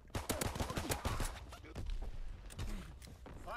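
Distant artillery barrage in a WW2 video game, a rapid run of sharp blasts and thuds crowding together, then scattered explosions and rumble, with faint voices under the firing.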